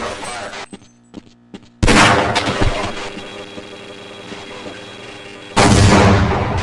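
Heavy gunfire in the Half-Life: Blue Shift video game, loud sustained bursts of shooting that start abruptly, hold under a constant rumble, then surge again near the end, with no speech.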